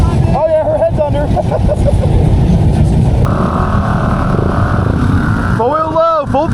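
Honda Foreman ATV on 35-inch tires roaring at full throttle through a mud hole, a loud steady engine drone with revving swells, while people shout and talk over it close by.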